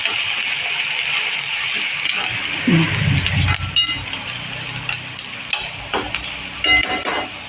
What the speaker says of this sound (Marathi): कांदा आपला चांगला परतून होत आला आहे